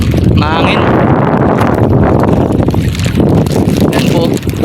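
Strong wind buffets the microphone on a small boat out on rough water, a loud continuous rumbling roar with gusty swells, while a person talks through it.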